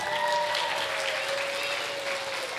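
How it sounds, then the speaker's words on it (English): Parents and guests applaud young children graduating from a K3 and K4 preschool program, a brief burst of steady clapping across the room with a faint sustained tone running underneath. "let's give all of them a round of applause."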